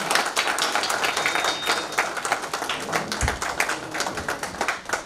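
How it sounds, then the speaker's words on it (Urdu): Dense applause from the audience at an all-India mushaira fills the hall, many hands clapping fast and continuously at close range, with no speech over it. "بہت ساری تالیوں کے ساتھ."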